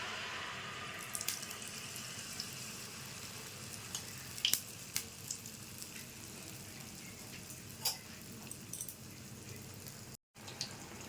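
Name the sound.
poa pitha frying in hot refined oil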